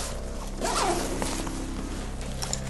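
A zipper on a 5.11 Rush tactical backpack is pulled in one quick, close stroke over a steady background hum.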